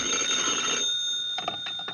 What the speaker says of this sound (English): 10 minutes later, I got a phone call.